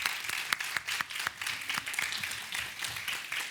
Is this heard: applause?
yes